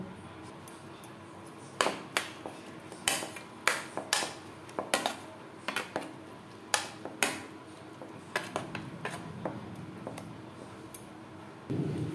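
Ground lentil paste is mixed with turmeric powder and chopped onion in a bowl, giving scattered clinks, taps and scrapes of a utensil against the dish at an uneven pace, close by with no speech.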